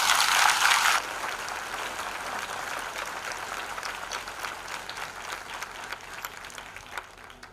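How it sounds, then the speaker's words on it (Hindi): A congregation at a Christian worship service claps loudly at first, then the applause settles into steady, softer clapping that continues throughout. "आइए यीशु के लिए जोरदार ताली बजाएं"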